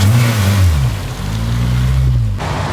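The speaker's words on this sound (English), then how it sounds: "That thing sounds like it's on rev limiter." A K20A-swapped Acura RSX Type-S on 15-inch wheels roars through a burnout, its engine revving hard and loud up close with rising and falling pitch, then cutting off abruptly near the end.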